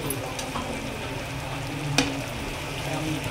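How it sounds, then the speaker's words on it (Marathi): Green chillies fry with a tomato and onion masala in a pan, a steady close sizzle with a faint scrape of stirring partway through. "हिरवी मिरची टाकून आपण 2 मिनटं हा सगळा मसाला फ्राय करून घ्यायचा आहे"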